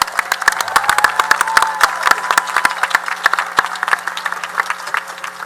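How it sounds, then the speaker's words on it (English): Applause from a commencement audience honoring the graduating class of 2023, a crowd of individual sharp claps rattling steadily for several seconds with no talking over it. "You clap for them again."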